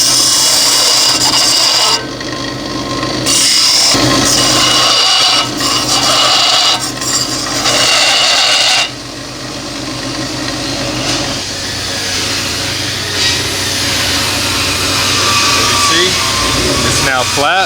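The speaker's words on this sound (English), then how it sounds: "Start the sander, start button." A power sander runs on the surface of an explosion-proof LED light fixture during assembly, giving a loud, continuous abrasive whir whose tone shifts as it is pressed and moved, with brief dips in level.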